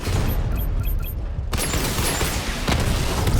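Barrage attack explosions from the Batmobile in Batman Arkham Knight, a dense, loud rumble of booms and rapid gunfire-like bursts continuing throughout, with a sharp broadband blast partway through and no talk.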